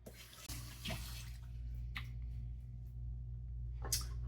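Water runs from a bathroom tap as someone rinses off after a straight-razor shave, a steady close splash with a few sharper splashes and clinks.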